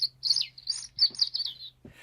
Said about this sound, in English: the birds were back.